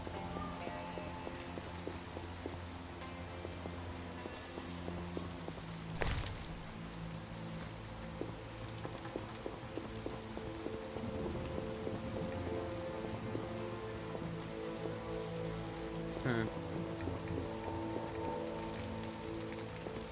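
Steady rain pours down in the video game The Witcher: Enhanced Edition, a continuous dense patter spanning the whole stretch, with a brief louder splash or thud partway through and faint ambient game sounds beneath.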